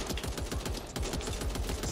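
Rapid automatic gunfire in Back 4 Blood during a zombie attack, with fast regular bursts of shots close and steady.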